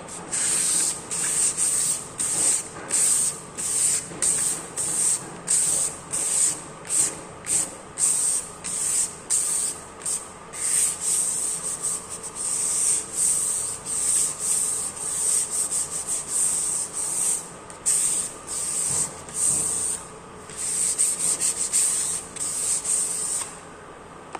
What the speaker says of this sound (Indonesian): Pertama, kita amplas kayu menggunakan kertas amplas grade 400 ini.